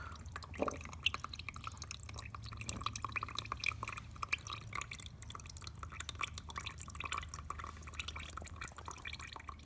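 Fluid dripping from the oil filter housing of a Yanmar three-cylinder diesel engine during a teardown, with steady soft drips and faint trickling against a low background hum, and no talking.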